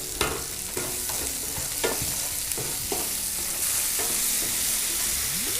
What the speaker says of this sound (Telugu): ఎండుమిర్చి ఆయిల్లో ఫ్రై అవుతుంటే ఘాటు బాగా ఉంది